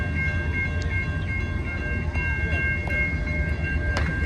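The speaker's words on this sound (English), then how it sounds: "We got another train coming." A long freight train running along a street in LaGrange rumbles steadily and loudly nearby, with a constant low roar and a faint tonal hum over it.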